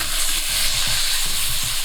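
Cooked chickpeas and roughly chopped garlic are stirred in a hot pan for a chickpea curry. A spoon scrapes in a rhythmic pattern over a continuous close oil sizzle.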